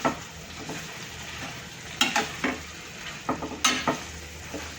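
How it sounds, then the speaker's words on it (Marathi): Boiled bitter gourd being stirred into fried spices in a pan: a low sizzle underneath, with several sharp scraping clatters of a spoon against the metal at irregular intervals, close and clear, without speech. "आता हे उकडलेलं कारलं त्याच्यात टाकून घ्यायचं आता याला मिक्स करून घेऊया"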